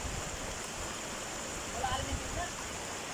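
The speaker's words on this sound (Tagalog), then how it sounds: "Nandito kami sa ilog." River water flowing steadily where people are bathing, a constant broad rushing wash at moderate level with occasional faint voices.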